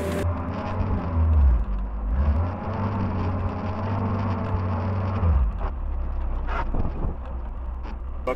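A 1944 Willys MB jeep descending a hill in four-wheel-drive low range on engine braking, its engine giving a steady, loud low rumble with a shift in pitch midway, heard up close with some wind buffeting and no talk.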